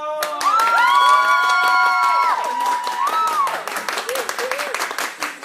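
Applause and cheering greet a Thai singer on a Bangkok morning TV show: steady, dense clapping throughout, with a loud voice calling out over it and the crowd noise thinning toward the end.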